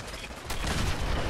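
Heavy gunfire from the video game Fallout 4 bursts out in a dense, continuous barrage, loud and close, with the volume swelling partway through.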